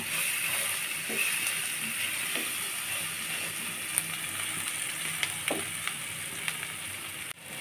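Spice paste of chili powder, chopped tomato and coriander leaves being fried down for a baim eel curry, a quiet steady hiss of oil with occasional faint scrapes and clicks of stirring.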